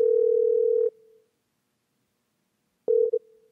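A steady telephone dial tone while a call is placed, holding for about a second, then silence, then the tone returns briefly with a short break, clean and alone with no voices.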